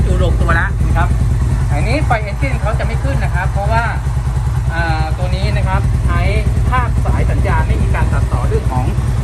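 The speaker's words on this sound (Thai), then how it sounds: "จะทำการสตาร์ทรถนะฮะ สตาร์ทรถ" A GPX250 two-cylinder motorcycle engine with an independent fuel tuning box starts and keeps running at a steady idle-like throb, loud and close, with someone talking over it throughout.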